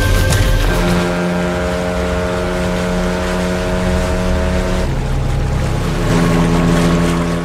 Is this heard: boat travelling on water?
yes